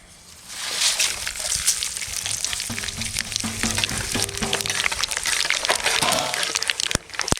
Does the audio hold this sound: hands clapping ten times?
no